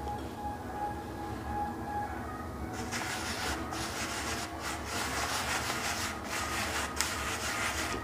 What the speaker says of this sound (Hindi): थोड़ा सा ऐसे रगड़ लीजिएगा, थोड़ा कलर बन जाए